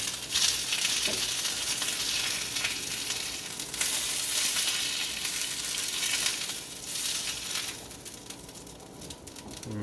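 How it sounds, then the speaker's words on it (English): An egg fries in oil in a pan, giving a close, continuous sizzle with bright spattering bursts that rise and ease over several seconds, with no talking. "I'll put a little more oil in there. So I'm not sure, but I think my egg is done."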